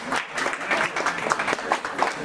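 A crowd applauds with steady, dense clapping that continues throughout, moderately loud and without a pause.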